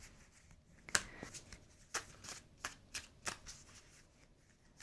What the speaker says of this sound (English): I'm going to shuffle these tarot cards